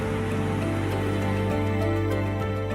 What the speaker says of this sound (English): Italy is raining heavily tonight.